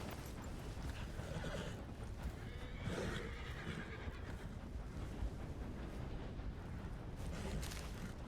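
Horses whinnying and hooves clopping in the video game Red Dead Redemption 2, a continuous noisy wash of hoofbeats with a louder whinny near the middle, with no talk in it.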